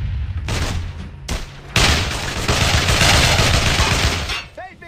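Squad gunfire in the World War II shooter Brothers in Arms: Hell's Highway: loud, dense bursts of rifle and machine-gun shots crackle in rapid overlapping volleys, with a brief lull before the barrage resumes at full intensity.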